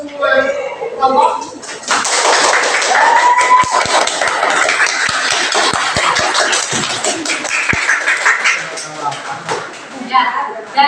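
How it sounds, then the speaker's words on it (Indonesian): A classroom full of students applauding all the groups at the end of a lesson, with dense, sustained clapping that rises quickly and holds for several seconds before trailing off, and a teacher's voice heard before and after. "Silakan untuk memberikan aplaus untuk semua kelompok."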